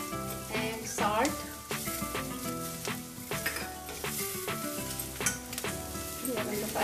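Spices (pepper, coriander powder, garam masala, salt) frying in a pan for keema, a steady loud sizzle with stirring and utensil clinks, close up, under light background music.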